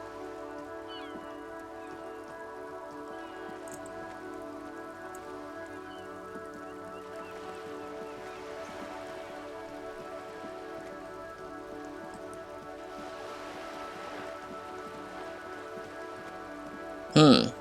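Steady rain falling in the video game Disco Elysium, a soft continuous patter running under a low humming music bed, with a brief louder burst right at the end.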